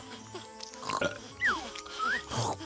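A cartoonish pig in Yooka-Laylee oinks and grunts in a few short squealing bursts over a busy game soundtrack, with some chatter-like vocal sounds mixed in.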